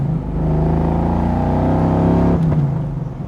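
A 1961 Chevrolet Corvette engine holds a steady, loud drone while accelerating, then shifts pitch abruptly near the end as it downshifts and settles back into a lower hum.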